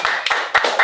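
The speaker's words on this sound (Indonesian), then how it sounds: "Wih, tepuk tangan dulu dong." A few people clapping their hands at a cultural talk, a short burst of three or four close, loud claps.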